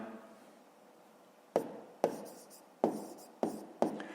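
A pen writes figures on paper during a fifth-grade maths exercise, giving five short, sharp scratching strokes close up after a quiet stretch, each fading quickly.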